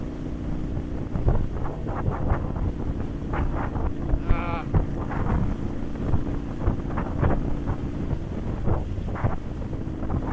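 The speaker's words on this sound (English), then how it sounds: "it's windy" Strong wind buffets outdoors with a constant low roar against the microphone, while scattered faint knocks and sounds come and go.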